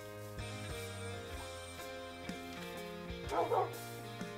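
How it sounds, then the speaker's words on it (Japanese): Dogs in a Jurassic-themed Minecraft mod give a few short yips and bow-wows over steady game music, moderately close, with a louder cluster of barks toward the end. "あー、ワンちゃんがいるよ。"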